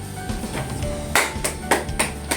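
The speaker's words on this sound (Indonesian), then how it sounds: "kita tepuk tangan dulu" Children in a third-grade primary school class clap their hands, several sharp claps in an uneven rhythm, louder toward the end, over faint room noise.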